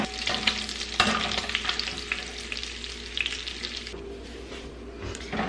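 Cooked crumbled homemade pork is drained of its fat, producing a steady sizzling, liquid pouring and stirring sound that runs continuously and fairly close.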